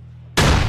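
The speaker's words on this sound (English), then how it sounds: "Nice nade." A grenade explodes in an online tournament video game, a sudden loud burst cutting in after a quiet moment and ringing on briefly; no voices are heard.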